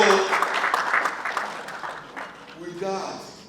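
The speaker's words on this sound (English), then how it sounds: "So let me see your round of applause for these people now." A dinner crowd at a Sheraton Hotel engineering reunion claps in a dense, steady round of applause, with a voice speaking over it near the end.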